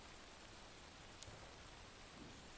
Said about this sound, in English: Oh my, that's raining.